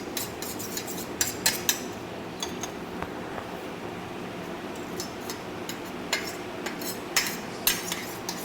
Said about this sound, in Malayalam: അപ്പം നമുക്ക് തൈര് ഒഴിച്ച് കൊടുത്തിട്ട് ഒന്ന് മിക്സ് ചെയ്ത് കൊടുക്കാം